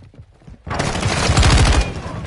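Sudden burst of automatic gunfire in Call of Duty Modern Warfare 2 multiplayer, loud rapid shots crackling close after a quiet start.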